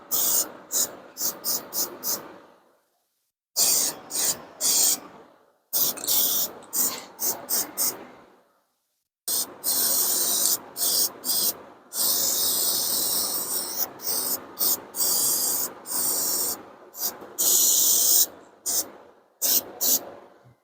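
Short and longer bursts of spray paint hiss while A-arms are coated, starting and stopping in an irregular rhythm with brief silent gaps; the hissing is close and fairly quiet.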